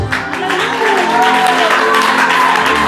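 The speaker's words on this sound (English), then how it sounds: "Let's clap hands for the woman of God." Church congregation clapping hands together in worship, a loud continuous wash of applause mixed with shouts and cheering voices, with singing or talk running over it throughout.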